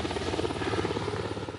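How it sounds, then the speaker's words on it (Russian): Military helicopters flying low at an air show marking an Uzbekistan air fleet anniversary, a loud close rhythmic rotor chop with a steady pulsing beat throughout. "И этот звук ни с чем не перепутать. В небе боевые машины вертолетной авиации."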